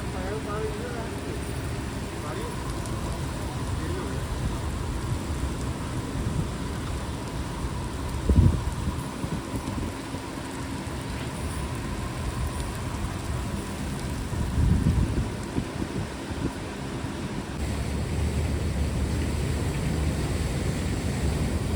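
Steady rain falls outdoors near the Satluj river at Harike Pattan, a continuous broadband hiss with low rumbles like distant thunder around the middle, and a voice talking over it.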